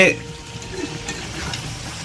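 Spoon scraping and stirring chili and turmeric powder with oil in a frying pan for chicken curry, a soft steady sizzle with light scraping throughout, close by, after a brief opening clatter.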